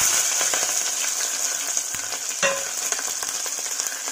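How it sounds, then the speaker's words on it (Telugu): Onions and green chillies frying in a pan, a dense, continuous sizzle with a few faint utensil clicks, steady and close with no talk. "వేసుకున్నాక ఒకసారి ఫ్రై చేసుకున్నాము."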